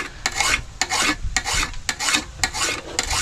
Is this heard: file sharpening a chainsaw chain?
yes